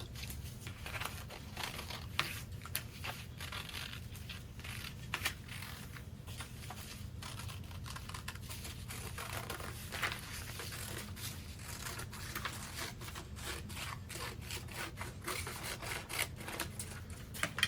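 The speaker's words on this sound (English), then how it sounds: "we just want to cut out that pond area from this section" A cardboard template is cut to shape a pond, producing steady close crisp snipping and rustling with many short scratchy cuts throughout, no voices.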